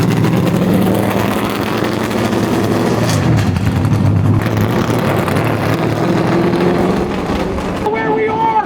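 An illegal NASCAR race car cruises through a residential neighborhood on public streets, its engine a steady, loud drone held throughout with a voice talking over it.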